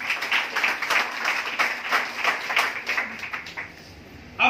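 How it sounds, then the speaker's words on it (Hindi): An indoor audience at a business plan presentation applauds, a steady wash of many hands clapping that thins out toward the end before a final sharp sound. "आपके लिए इनके लिए एक जोरदार ताली बजना चाहिए"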